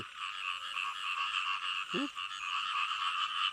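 A dense chorus of frogs, the kind caught for food, croaks steadily and continuously in the background. One lower, brief call stands out near the middle of the otherwise even, sustained trilling.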